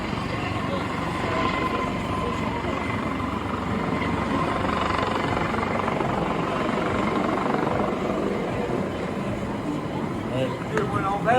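A helicopter drones loudly and steadily overhead, its rotor and engine roar filling the whole stretch without fading.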